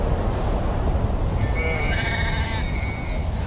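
A flock of sheep and goats bleats in wavering, overlapping cries over a steady roar of wind-blown sand during a desert storm near a tent.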